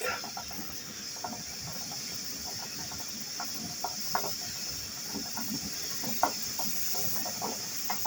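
Steady, loud hiss of steam escaping from a Home Perfect pressure cooker valve, a constant high whistle-like rush with faint clicks and bubbling underneath.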